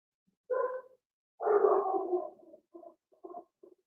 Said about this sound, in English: You hear my dog, Charlie?